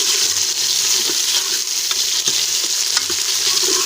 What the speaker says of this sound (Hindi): अब हमने इसमें टमाटर डाल दिया। एक तो हम चम्मच हिलाएंगे